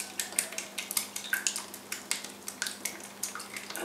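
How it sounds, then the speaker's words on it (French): Eggs are beaten in a bowl for Provençal navette biscuits, a quick, regular run of light clinking taps from a utensil against the bowl, close and fairly quiet, with no voices. "Donc, je vais un petit peu les battre."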